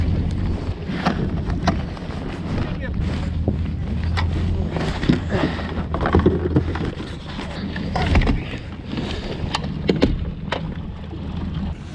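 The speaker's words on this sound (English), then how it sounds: "I've been letting the motor warm up since we've launched" A boat motor idles steadily while warming up just after launch on Braidwood Lake at sunrise, a low continuous hum with wind noise and occasional clunks and knocks from the boat.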